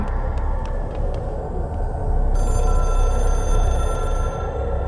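A telephone rings in the video game Control. A bright metallic ringing enters midway and continues alongside a steady low mechanical rumble and some soft clicks.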